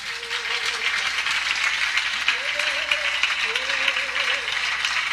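A church congregation applauds steadily throughout, a dense wash of clapping with a few voices calling out over it.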